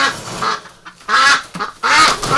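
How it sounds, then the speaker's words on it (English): Ducks being carried outside from a pen in winter, giving loud, close, raspy honking quacks in three bursts separated by brief pauses. "Before I do a recon, we'll put these ducks outside."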